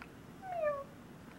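A person imitates a cat's meow with a single short, faint, rising-and-falling call against a quiet background.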